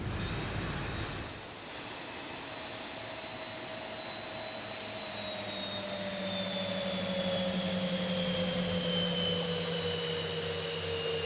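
A Zibo Boeing 737 in X-Plane 11 winds down, its engines spooling down in long, smoothly falling whine tones over a steady, loud APU and air roar that continues alone with no talk.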